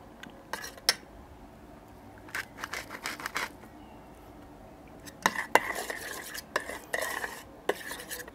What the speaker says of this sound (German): Das Ganze einmal gut durchrühren.